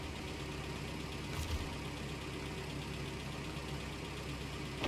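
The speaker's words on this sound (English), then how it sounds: "Let's stick a little bit of fuel on and see if his engine will start." A damaged truck's engine turns over and settles into a steady idle in SnowRunner, set in Scandinavia, heard as a continuous low rumble with a brief bump near the start and no talking.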